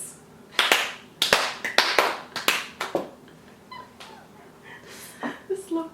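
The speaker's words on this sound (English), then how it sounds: "The slow clap." A deliberate slow clap at a home table during a mukbang, with sharp single claps spaced out and speeding up slightly, then giving way to talking and small sounds.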